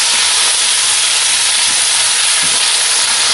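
Ground meat browns loudly in a hot pan for spaghetti sauce, its fat rendering out in a dense, continuous sizzle and hiss, close and uninterrupted.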